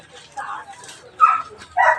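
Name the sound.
dogs barking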